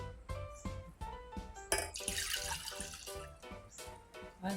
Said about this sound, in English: I'm gonna be adding the same amount of water